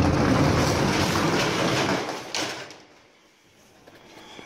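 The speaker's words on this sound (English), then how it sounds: "So let's open the door and see what's inside." A warehouse door is opened, a loud, broad rumbling slide that continues for about two seconds, ends in a short knock, and fades into a quiet room with no talking.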